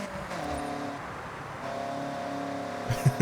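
Toyota AE86 in Forza Horizon 6, fairly stock, its engine holding a steady droning note that lifts slightly midway, with a few sharp thumps near the end.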